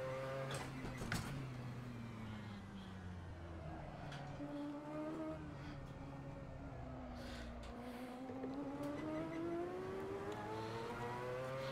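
Race car engines in a racing video game, two cars side by side on the front straight, a steady loud engine drone with whining tones that climb and fall as the revs shift, continuous throughout.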